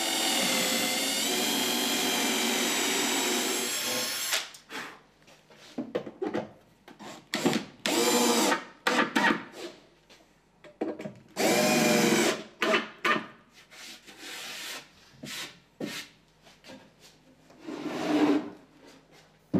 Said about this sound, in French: Préforez tous les trous et montez tout.